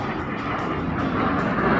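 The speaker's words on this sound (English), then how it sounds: "Oh, airplane." A fixed-wing airplane drones steadily overhead for the whole stretch, a broad, even engine roar with no voices, heard beside a brook at an old bottle dump.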